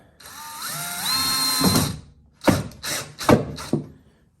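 Screws are driven into a bed extender on a 2022 Ford Maverick pickup, a close whirring tool run followed by several short ratcheting bursts, loud and free of speech.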